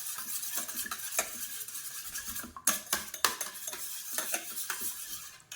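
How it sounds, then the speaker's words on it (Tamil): A spoon beats eggs in a bowl for a coconut milk and palm-jaggery pudding, giving quick, uneven clicks and scrapes that continue throughout, close up with no talk. "இதை வச்சுட்டு நல்லா அந்த முட்டையை வந்து அடிச்சுக்கணும்"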